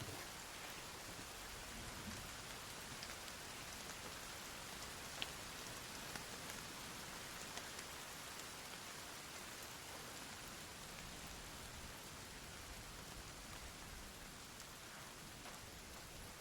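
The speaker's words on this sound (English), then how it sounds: "Oh, it's raining." Steady video game rainfall patters continuously across the whole stretch, an even hiss of drops with no voices and only a few slightly louder drips.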